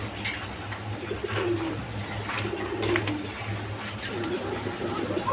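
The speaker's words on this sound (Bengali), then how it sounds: "এক পেয়ার হাই ফ্লাইং গিরিবাস কবুতর আছে" A pair of high-flying Giribaz pigeons from Rajshahi coo in low, repeated rolling calls close by, steady over a constant background hum with no talking.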